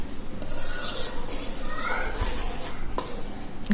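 Tomato thokku is stirred in a pan with scraping, rubbing strokes and a faint sizzle underneath, close by and continuous.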